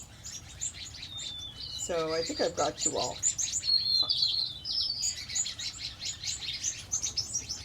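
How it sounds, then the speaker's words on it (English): Birds, including spice finches, chirp and tweet repeatedly nearby in a wet bird garden, a busy mix of short calls and trills, while a person speaks briefly in the middle. "I love the sound of the birds."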